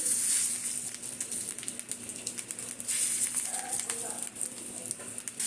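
Nigella seeds dropped into hot frying oil for a Bengali fish dish in mustard-poppy paste, giving a fine, crackling sizzle with scattered sharp pops over a steady hiss. A faint low hum sits underneath.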